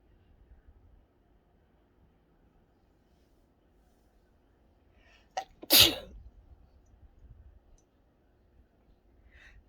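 A single sharp sneeze, close and sudden, preceded by a brief intake, standing out against a near-silent room with faint low hum.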